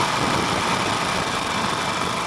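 A Harley-Davidson Nightster 1200 engine at open throttle, a loud, steady, dense roar with a rattling texture running throughout, close up with no voices.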